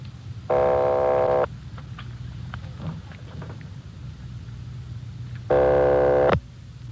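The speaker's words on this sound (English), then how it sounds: "They're ringing the number, Sergeant." Two long ringback tones on a phone line, each about a second, separated by a pause with faint line noise and muffled background sounds.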